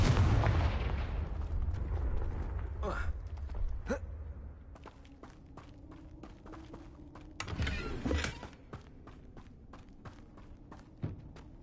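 Blasting-spell explosions in a Harry Potter–style video game: a loud low boom opening the clip, then scattered sharp cracks and a second heavy burst near the middle, with footsteps and small impacts between, no talk.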